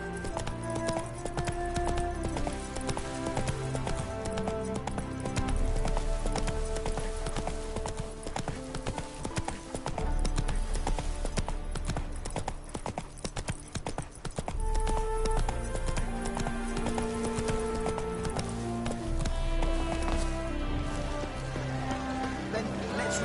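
Roach the horse clip-clops steadily in The Witcher 3, rhythmic hoofbeats running throughout under game music and a bed of rain-like ambience, close and continuous.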